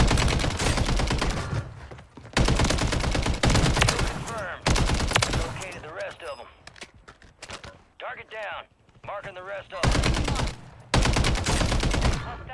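Bursts of HRM 9 submachine gun fire in the shooter game Warzone, several loud rapid volleys separated by short pauses, with footsteps and game effects in between.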